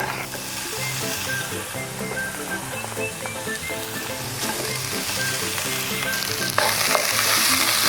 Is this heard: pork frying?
yes